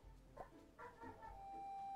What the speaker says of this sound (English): there's a dog outside that's not happy